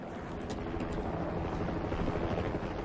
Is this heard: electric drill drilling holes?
no